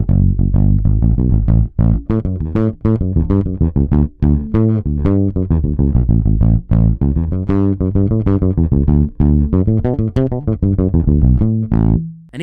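Chowny Retrovibe collaboration bass guitar in need of repair, with a constant fuzzy, distorted tone like a dying battery, played alone as a steady run of plucked notes throughout.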